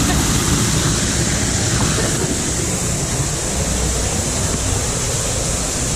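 Loud, constant rushing water roars at a theme park in Animal Kingdom, a dense unbroken wash of spray and flow that fills the clip at close range.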